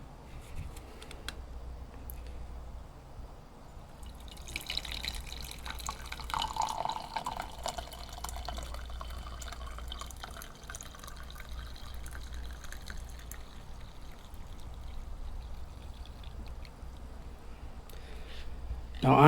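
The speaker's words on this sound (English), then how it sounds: "We're gonna go ahead and pour this one." Brewed coffee poured into a cup at an off-grid camp setting, a steady liquid trickle with faint drips running quietly for a long stretch beneath background hiss, with a louder burst at the very end.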